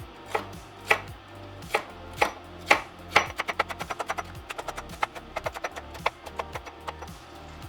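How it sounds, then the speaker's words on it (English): A knife chops celery stalks on a cutting board, starting with a few slow, firm cuts, then breaking into a quicker run of crisp, close taps. "2 stalks of celery. We're gonna chop it up."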